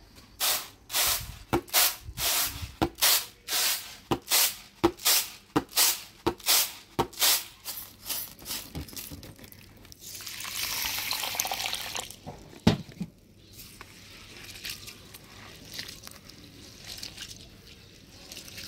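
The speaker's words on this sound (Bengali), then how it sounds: "ডালটা পরিষ্কার করে ধুয়ে নিলাম" Kalai dal lentils are rinsed by hand in water, with rhythmic sloshing swishes for several seconds, then a louder rush of pouring or running water, a clunk, and quieter trickling afterward.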